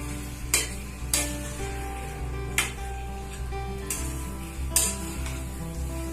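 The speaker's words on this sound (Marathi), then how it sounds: "आता आपण हे व्यवस्थित मिक्स करून दहा ते पंधरा मिनिटं त्याला शिजू देणार आहे" Dry-style Maharashtrian suka chicken cooks in a pan under a constant sizzle, with a spoon clanking against the pan at regular intervals of roughly one second as it is stirred. No voice is heard.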